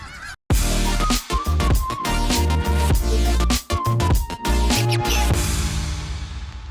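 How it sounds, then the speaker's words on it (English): Loud, dense honking and squawking from many chickens in the video game Far Cry 6, continuous and close, with brief gaps. "Look at all those chickens!"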